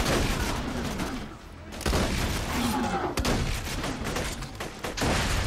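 Shotgun blasts in Borderlands 2, a few loud broadband bursts in the middle of dense game noise, with a voice talking over parts of it.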